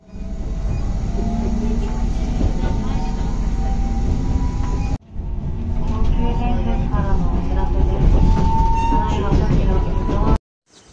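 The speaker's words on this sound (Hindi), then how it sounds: "दिस इज द स्टेशन, हम लोग जस्ट उतर चुके हैं" Train at a railway station in Japan, with a steady loud rumble and hum of the carriages that breaks off briefly midway, then resumes before stopping abruptly near the end; faint voices occasionally underneath.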